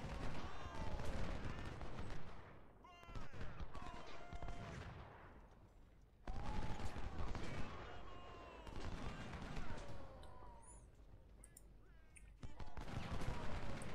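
Battlefield gunfire from Ultimate General: Civil War during the Chancellorsville fight: dense musket volleys and scattered shots crackle steadily over a continuous battle din, with someone talking over much of it.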